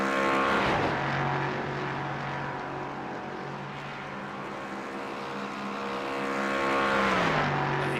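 A GT3 race car engine in a sim racing game at Spa-Francorchamps climbs the hill toward the Kemmel Straight, loud and close, with the revs held high and then dropping sharply near the end, with no speech.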